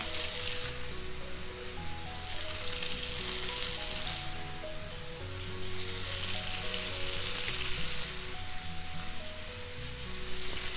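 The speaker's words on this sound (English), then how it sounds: "go ahead and sear that tuna" Tuna seared in a medium-hot pan, crackling and sizzling steadily with a faint swelling hiss that rises and falls, close and continuous, with no voices.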